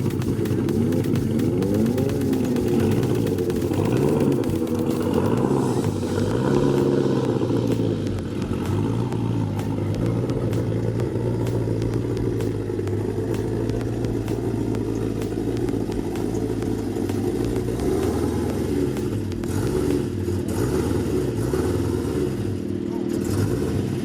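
Loping, uneven idle of a modified old-school car engine, a deep lumpy rumble with rhythmic surges running steadily near and loud throughout.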